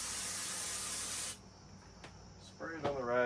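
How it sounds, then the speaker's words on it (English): Brake cleaner is sprayed onto a rag to clean an engine sealing surface during a 2007 Subaru STI EJ25 rebuild. One steady, close hiss lasts just over a second, then a voice speaks. "Spray it on the rag."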